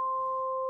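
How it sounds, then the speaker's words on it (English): Steady waveshaped sine tone from a Novation Summit synthesizer, a pure pitched hum holding level for under a second with a bright overtone above the fundamental, alone and unbroken. "So that's a nice alternate take on a sine wave."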